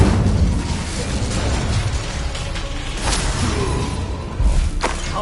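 An Incendio fire spell is cast in the video game Hogwarts Legacy, producing whooshing fiery bursts over a continuous low rumble, with a sharper swell near the end amid mechanical game effects.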